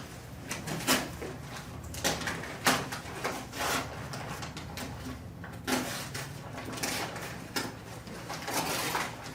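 A sealed box is handled, pulled out and opened with a run of scattered bumps, scrapes and cardboard knocks at irregular intervals. The sounds are close and fairly quiet.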